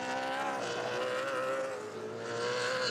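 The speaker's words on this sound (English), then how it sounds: "The sound of 830, 840 horsepower in the Trans Am Series" Trans Am Series race cars of about 830–840 horsepower roar past at high revs at Road Atlanta, a continuous loud drone with pitch shifting as the cars sweep by.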